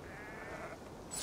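Sheep bleat in Assassin's Creed Valhalla, one short wavering call in the foreground over a low ambient game background, followed by a brief sharper sound at the end.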